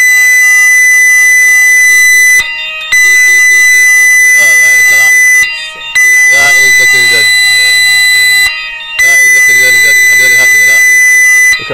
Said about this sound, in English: that's a loud fire alarm.